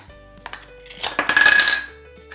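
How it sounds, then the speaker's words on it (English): A toy knife slices a toy Velcro tomato, giving a brief, close tearing rasp with light plastic clicks that swells to a loud ripping burst and then fades. No one speaks. "I'll start by slicing this tomato."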